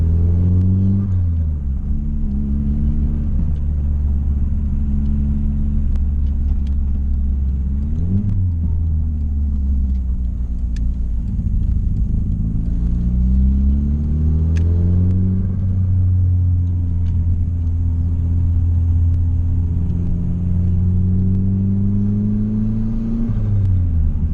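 A car engine drones steadily while driving, rising and falling through gear changes, with faint exhaust pops and crackles over the low rumble.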